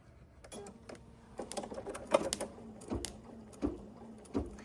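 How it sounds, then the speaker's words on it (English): A home sewing machine stitches a fabric wagon handle for a baby gift, giving a soft, uneven run of clicks and short mechanical bursts at close range, with no talking. "I am going to go ahead and start stitching, and we're going to stitch the wagon handle first"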